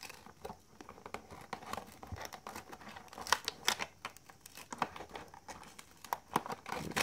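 A DC Comics Mr. Terrific action figure being freed from its packaging, with scattered crinkles, taps and sharp plastic clicks in an irregular pattern, quiet and close with no talking.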